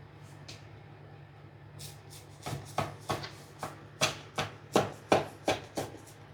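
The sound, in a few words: knife cutting a slice of gingerbread cake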